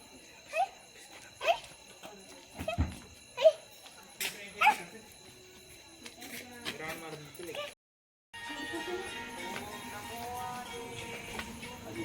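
A dog barks in sharp, scattered yips amid a crowded village fair, the short bursts rising over people talking and general fair bustle, with a brief gap before the crowd noise resumes.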